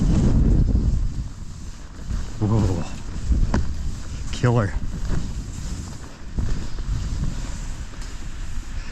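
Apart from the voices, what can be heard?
strong wind at a ski mountain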